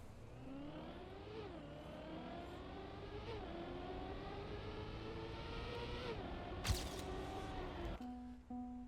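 A car engine in a racing video game revving and accelerating through gear changes, a steady rising whine that dips and climbs again, fairly quiet with a brief clatter near the end.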